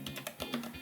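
Keys clack on a tiny homemade pocket-sized mechanical keyboard, about seven quick, fairly even keystrokes heard up close and faint in under a second.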